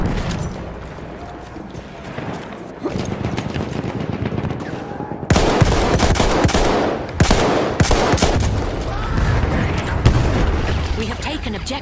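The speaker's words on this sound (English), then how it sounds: "Grenade out!" Grenade explosion and gunfire in Battlefield 1, bursts of machine-gun fire and booming blasts in a busy battle, loud and close, growing heavier partway through with voices mixed in.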